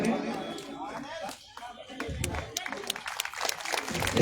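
A crowd at a public statue-unveiling and beneficiary gathering breaks into applause welcoming a state minister, scattered clapping building and growing louder over the second half, with a murmur of voices beneath.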